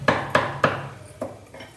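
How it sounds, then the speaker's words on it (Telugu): Pestle pounding cumin seeds and garlic in a bowl: three sharp, evenly spaced knocks close up, then a pause and two softer strikes, with no talking. "ఈ జీలకర్ర, ఈ వెల్లుల్లిపాయలు చక్కగా ఈ గిన్నెలో వేసి మరి కచ్చా బచ్చాగా దంచేస్తానండి"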